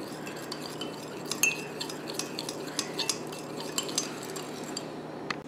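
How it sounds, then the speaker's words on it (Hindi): A spoon stirs Tang drink syrup mixed with sugar and water, producing quiet, repeated metallic clinks and scraping against the container with no voices. "और इसको मिक्स कर लें अच्छे तरीके से।"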